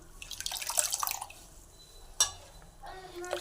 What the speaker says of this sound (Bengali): শাকটা কিন্তু আমি ভালো করে ধুয়ে নিচ্ছি